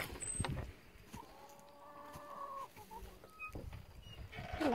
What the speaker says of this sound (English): Who's having a good old crow?